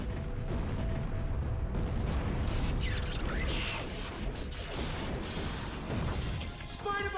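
Explosives go off in a Blades-era Xbox 360 launch game, a dense, continuous roar of bursts, crashes and mechanical clatter filling the whole stretch, with brief electronic chirps near the end.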